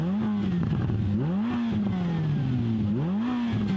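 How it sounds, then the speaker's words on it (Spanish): Ferrari F8 Tributo engine revving in quick repeated bursts, pitch climbing and dropping with each blip, loud and close throughout with no talking. "Me parece que es un F8 tributo."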